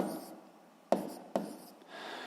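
Pen or pencil writing out a school physics momentum calculation, a soft scratchy stroke sound with two sharp taps, close and fairly quiet, with no talk over it.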